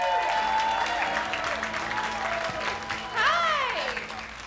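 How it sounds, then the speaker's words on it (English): A comedy club audience applauding as a comedian comes to the stage at a comedy bootcamp, sustained clapping with cheers and a few voices over it. "with a big round of applause"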